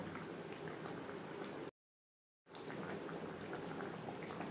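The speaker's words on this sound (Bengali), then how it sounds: "গ্রেভির সাথে মাছ আরও 3-4 মিনিট রান্না করব।" Fish simmering in gravy in a pan, a soft continuous bubbling and crackling hiss that cuts out abruptly for under a second before resuming at the same low level.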